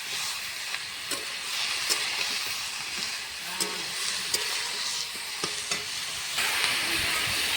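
Greens and stems frying in a pan for a fish curry, a constant moderate sizzle with occasional clicks and scrapes of a spatula stirring, close and without talk.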